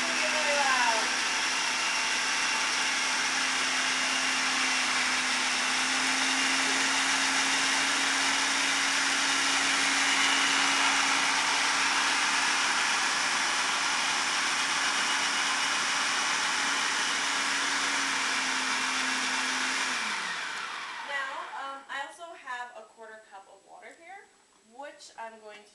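A blender running on high purees coconut tomato soup with a loud, constant roar for about twenty seconds, then winds down and stops, leaving quieter clinks and a voice.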